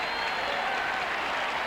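Tennis crowd applauding and cheering for Stefan Edberg in a 1996 match against Henman, a dense steady wash of clapping and crowd noise across the whole moment.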